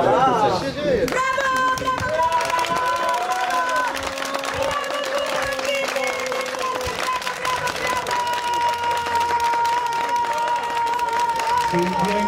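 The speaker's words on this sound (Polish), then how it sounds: "Tym większe brawa dla panów, którzy stoją obecnie na podium" Spectators at the GSMP Załuż 2013 hill-climb race clap and cheer for the drivers on the podium, with steady applause running throughout beneath a loud amplified voice and sustained tones.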